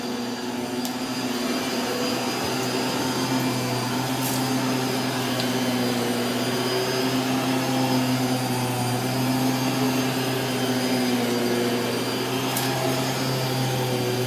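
A carpet cleaning and air purifying machine runs on setting 3, a loud, steady, close whine with a constant hum and no pauses, without talk.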